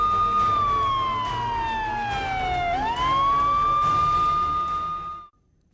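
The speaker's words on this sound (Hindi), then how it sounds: "सायरन का इस्तेमाल पुलिस की गाड़ियां या फिर एम्बुलेंस और फायर ब्रिगेड की गाड़ियां करती है।" A police vehicle siren wails loud and close, one long tone sliding slowly down then sweeping back up, heard alone before cutting off abruptly.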